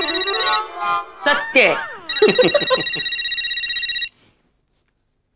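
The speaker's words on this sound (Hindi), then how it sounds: "या तो फोन की रिंग बजती" A phone ringtone plays a bright electronic melody, then shifts to a rapid repeating ring pattern before stopping; a brief spoken phrase overlaps early on.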